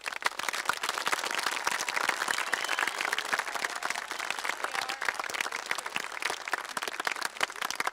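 Graduation audience applauding at a Parkersburg, West Virginia high school ceremony, steady dense clapping filling the hall throughout, sustained and even with no voices on top.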